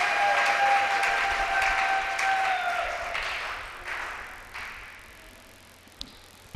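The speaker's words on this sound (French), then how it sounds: "Acclamons pour la gloire de notre Seigneur Jésus." A church congregation applauding during a French-language evangelical Sunday service, a dense burst of clapping that gradually thins and fades, with a few isolated claps at the end.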